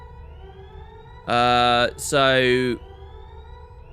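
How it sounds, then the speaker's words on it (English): A central alarm in the sci-fi video game Event 0 sounds aboard a spaceship orbiting the moon: two loud, sustained electronic tones, each about half a second long, separated by a short gap and standing out above quiet background. "The central alarm went off."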